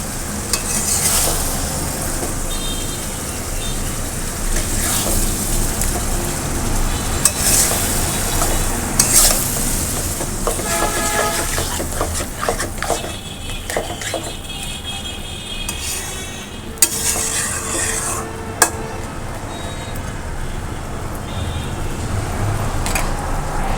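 Meat for halim is stirred and sizzles as it fries in a pot, with a steady hiss and scraping strokes against the metal running continuously, close by and unbroken by talk.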